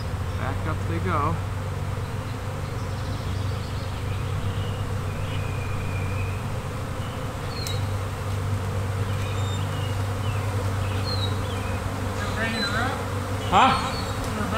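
Swarm of honey bees buzzing up in a tree, a dense steady drone throughout with individual bees passing close now and then, heard outdoors at moderate loudness.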